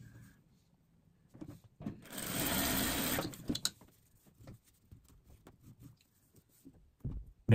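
Sewing machine stitching a seam on small fabric scraps, a steady whirring run of about a second and a half, with scattered handling clicks and thumps before and after.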